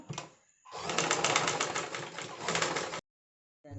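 A sewing machine stitches a shirt collar with a close, rapid whirring run of about two seconds after a short burst, then stops abruptly into silence.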